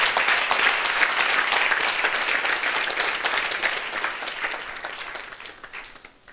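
A church congregation at a Sunday service claps in a loud, sustained burst of applause, dense and even, gradually easing toward the end.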